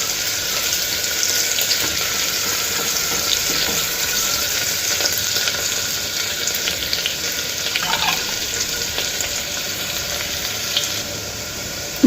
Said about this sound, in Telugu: ఈ ఉల్లిపాయలు మనకు కొంచెం కలర్ వచ్చే వరకు వేయించుకోవాలి.